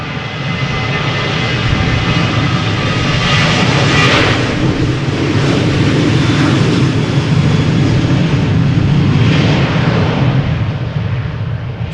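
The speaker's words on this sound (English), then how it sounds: "a shitload of airplanes now moving parallel to the center runway" Airliners queue for departure at Amsterdam Schiphol Airport, producing a loud, continuous roar of aircraft engines that holds steady, with broad rumbling swells as jets taxi and throttle up nearby.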